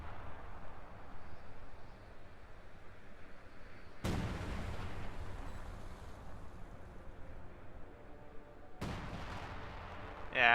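Artillery guns fire in the video game Company of Heroes 2 on a snowy winter map of the Moscow outskirts: two loud, sharp booms, far apart, each ringing out over a low, rumbling battlefield background.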